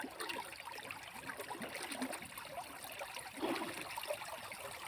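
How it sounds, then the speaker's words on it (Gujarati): A household tap runs on a rural farm, giving a faint, continuous trickle and splash of flowing water with slight surges and no talk. "જો હવે નળ શરૂ."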